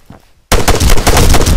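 Rapid, loud ARMA 3 gunfire crashes in after a brief quiet stretch, a dense burst of repeated shots with no speech over it.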